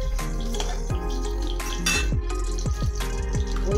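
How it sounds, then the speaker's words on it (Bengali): Fried cauliflower is lifted out of a pan with a metal spoon, giving a string of sharp clinks and scrapes against the pan over a light sizzle of oil. "তারপরে এবার আমি ফুলকপিটা তুলে নিচ্ছি।"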